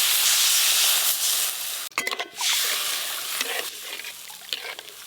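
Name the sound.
Hilsa fish curry broth bubbling and boiling in a pan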